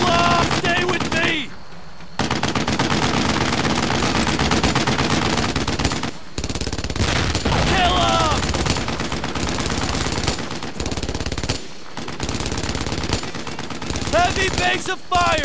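Sustained MG-42 machine gun fire in the World War II shooter Brothers in Arms: Earned in Blood, loud near-continuous bursts with brief gaps, mixed with shouted squad voices.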